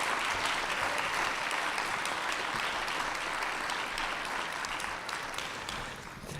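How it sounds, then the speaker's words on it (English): Sustained applause from an audience at a civic ceremony in Ottawa, steady and dense throughout before thinning slightly toward the end, with no talking over it. "Please, another big round of applause"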